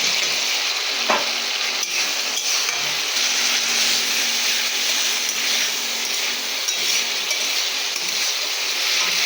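Curry frying in a pan after fried tomato is added, a loud, dense, continuous sizzle close by with only faint stirring knocks beneath it, no talking.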